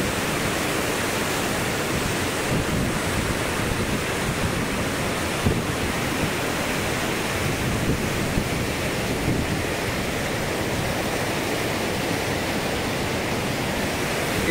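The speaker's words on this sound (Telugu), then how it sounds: "సో వాటర్ వచ్చే విధంగా చూడండి ఎంత ఫోర్స్ వస్తున్నాయో." Floodwater rushing through the Prakasam Barrage at Vijayawada, a loud, unbroken roar of heavy torrent flow that holds steady throughout, with no voices.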